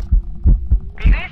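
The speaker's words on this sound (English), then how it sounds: "Heartbeats." Heartbeat effect in the ghost-hunting video game Phasmophobia, four heavy low thumps in a steady rhythm, loud and close, with a brief burst of higher noise at the end.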